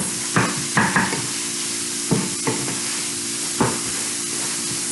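Onions and minced meat fry in a pan under a steady sizzling hiss, punctuated by several distinct scraping stirs of a utensil at uneven intervals.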